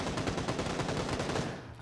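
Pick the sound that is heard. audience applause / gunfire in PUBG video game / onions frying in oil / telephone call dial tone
gunfire in PUBG video game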